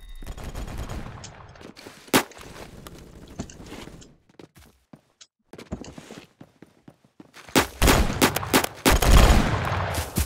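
Bursts of game gunfire in the Roblox shooter Phantom Forces: sharp loud shots early on, a sparse stretch of lighter clicks and footsteps, then a dense rapid volley near the end, with no talking.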